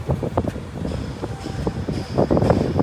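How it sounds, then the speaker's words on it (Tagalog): Strong wind buffets the microphone during an outdoor morning run, producing close, irregular low rumbling gusts that rise and fall over a few seconds. "Ang lakas ng hangin."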